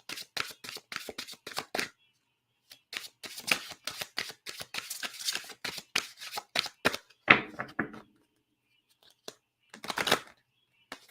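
Tarot cards being shuffled by hand in quick, crisp riffling bursts, close and fairly quiet, coming in uneven runs with short pauses between them.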